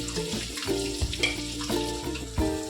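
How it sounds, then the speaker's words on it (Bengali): Cooked rice being stir-fried in a pan for fried rice gives a continuous loud, close sizzle and crackle, broken by a few rhythmic scraping stir strokes. "এবারে আমরা ভাতগুলো দিয়ে দিচ্ছি ফ্রাইড রাইসের জন্য।"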